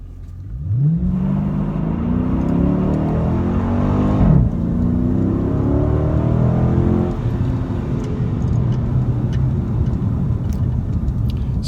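A 2019 Dodge Challenger Scat Pack launches from a stop in second gear on a street, its V8 roaring loud and close as revs climb steadily through one long pull, a brief dip mid-run, then sustained hard acceleration with wind and road noise.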